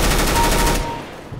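Rapid automatic gunfire from a CS:GO match, a dense loud burst of shots that stops about halfway through, leaving quieter game noise.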